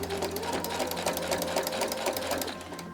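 A sewing machine stitches a fall pumpkin table runner quilt with steady, rapid needle chatter, loud and close, running continuously without any talk.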